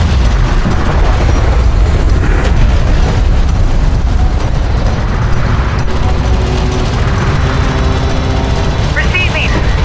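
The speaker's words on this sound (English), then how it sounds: "Taking effective fire." Incoming fire and explosions in the Homeworld: Deserts of Kharak desert battle, a loud, continuous rumble of blasts and weapon fire that barely lets up, with radio-style voices over it.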